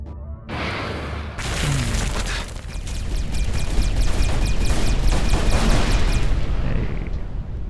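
Missile explosions from the space combat game Everspace 2, heavy booming blasts followed by a rapid rattling string of detonations and crackling bursts, loud and close with no talk.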